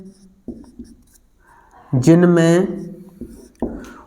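A teacher writes on a board in a Hindi class, with scattered scratchy strokes and taps and a short voiced sound partway through.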